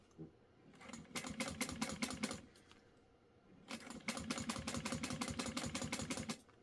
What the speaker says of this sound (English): And I'm only stitching down this folded side.